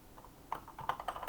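Quiet, close typing on a computer keyboard, a few scattered keystrokes followed by a faster irregular patter of clicks, no speech.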